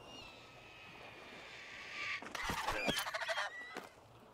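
Honking calls of a bird in the survival video game Survival Fountain of Youth, a quick burst of several loud goose-like honks over a soft ambient background.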